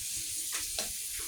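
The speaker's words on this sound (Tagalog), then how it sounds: "Ang ingay nito niluluto." Onions fry in a pan with a steady, bright sizzle, close and continuous, broken by a couple of brief stirring bursts.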